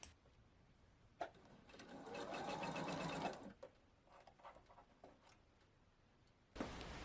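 Sewing machine stitching the pieced borders of a tropical fish art quilt, running in a steady close whirr for about two seconds, then stopping to a few soft mechanical taps and quiet handling before starting again.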